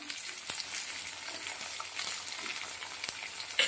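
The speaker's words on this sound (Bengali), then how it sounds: "কাজু, বিনস, ক্যাপসিকাম, কাজু, কিশমিশ সবকিছু দিয়ে নেবে। একটু নাড়িয়ে দিলাম" Cashews, green beans, capsicum and raisins sizzle and crackle in a hot pan, with small clicks of a spatula stirring them through a steady frying hiss.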